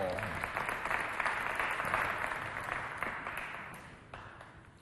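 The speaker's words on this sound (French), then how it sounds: "Madame la directrice générale, on l'applaudit bien fort." At an award ceremony for a youth holiday sports match between two teams, an audience applauds a guest, the clapping soft and somewhat distant, blended into a crowd wash that slowly fades toward the end.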